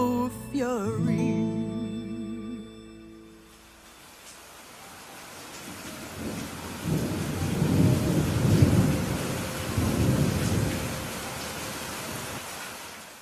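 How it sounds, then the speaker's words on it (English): Rain and thunder sound effects in a drag performance open with brief tonal ambient music, then a steady hiss of rain with deep rumbling thunder swelling loudly in two long waves before easing off. "I quite enjoyed all of the rain noises and ambient music that was playing on the beginning and at the end of that particular number"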